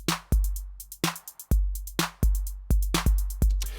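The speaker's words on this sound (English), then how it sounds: "Now let's look at the hi-hat pattern." A programmed drum beat plays alone: a crisp hi-hat pattern of short bright ticks, some rapid and clustered, sits over punchy low kick hits with decaying tails in a syncopated groove.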